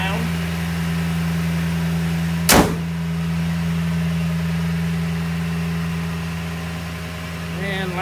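A 2014 Toyota Tundra with a big V8 idles with a steady, even hum, interrupted once by a short sharp knock partway through.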